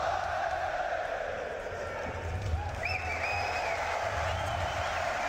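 A large arena crowd at the BLAST Paris Major Counter-Strike grand final cheers and roars as a steady, continuous wash of noise, with a few whistles rising above it and a voice talking over the top.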